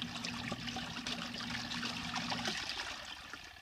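Pink Miniwash portable washing machine sloshing and churning water around a single towel, a continuous gurgling trickle with a low motor hum that stops partway through.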